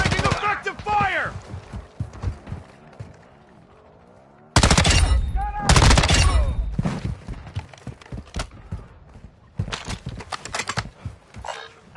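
Heavy automatic gunfire in the shooter game Call of Duty DMZ, loud sustained bursts broken by quieter gaps, with in-game voices and effects in between.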